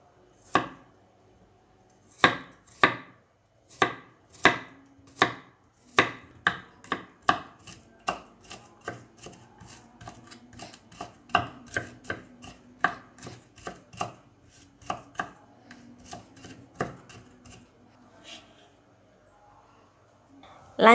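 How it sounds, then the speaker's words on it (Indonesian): Garlic being finely sliced with a knife on a board: a long run of crisp, close chopping taps, spaced at first and then quicker and more even. "ini bawang putih, ini aku iris halus"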